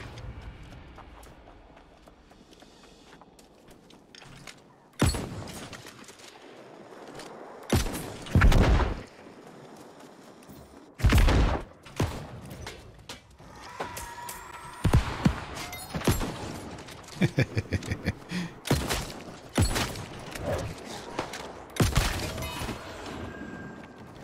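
Grenades go off in the MMO New World: several loud, sharp blasts burst out at irregular intervals over quieter background rumble, with a rapid cluster of crackling impacts and debris later on.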